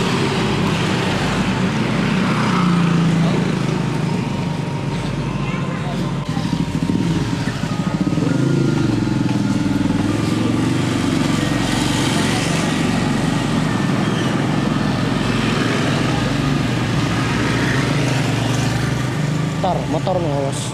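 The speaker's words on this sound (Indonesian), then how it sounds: "Motor nih, awas." A motorcycle engine droning steadily close by on a road where a fiber optic cable was hit by a fallen tree, a continuous rumbling hum over roadside noise, with people talking throughout.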